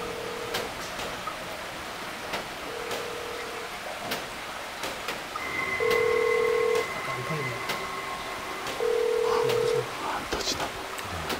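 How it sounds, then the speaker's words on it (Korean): A phone being dialed for a call in a quiet indoor building during a ghost-hunting visit, with short keypad tones spread across several seconds and two longer tones near the end, heard under people talking. "전화를 한번 해보겠습니다"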